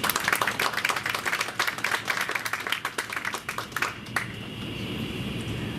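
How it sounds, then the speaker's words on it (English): Audience applause at an outdoor recognition and historical marker unveiling ceremony, a dense round of clapping for about four seconds that tapers off into ambient room noise. "Let's give him another round of applause."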